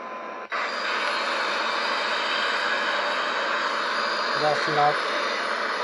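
Airliner jet engines at full takeoff thrust in the X-Plane 11 flight simulator give a loud, steady roar throughout, with a short voice and a couple of tones near the end.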